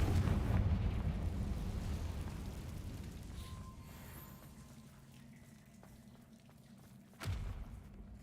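A Confringo blast spell in Hogwarts Legacy sets off a big rumbling explosion that slowly fades, then a second sharp thump lands near the end.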